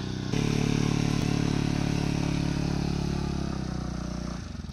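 A motor engine catches and starts, then runs with a steady rumbling drone that gradually fades slightly as it pulls away.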